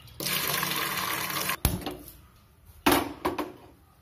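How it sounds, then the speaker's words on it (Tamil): Water streams from a tap over washed sago in a kitchen, a loud continuous rush for over a second, then a few short splashes and clunks. "இப்ப ஜவ்வரிசி மூழ்கிற அளவு தண்ணி சேர்த்துடலாம்."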